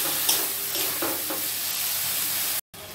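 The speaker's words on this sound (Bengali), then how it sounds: "মশলাটা একটু কষানো হোক" Spices and green peas are stirred and fried in a hot wok, giving a steady sizzle with a few scraping stirs and a brief break near the end.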